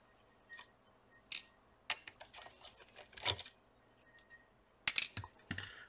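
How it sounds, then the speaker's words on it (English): Screws being backed out of an Orbitsound Dock E30 speaker during disassembly: a handful of faint, brief clicks and scrapes, sparse and irregular, heard close up with quiet room noise between and no talking. "So we're just gonna remove the four screws here."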